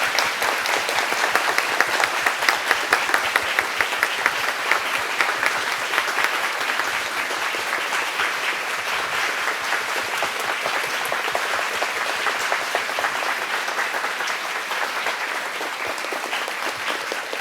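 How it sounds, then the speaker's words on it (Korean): A church congregation gives a long round of applause at a Wednesday evening service during a fund presentation, dense, even clapping that fills the hall and stays loud throughout, easing only slightly toward the end. "담임 목사님께서 유경동 총장님께 기금을 전달하실 때 큰 박수 부탁드립니다."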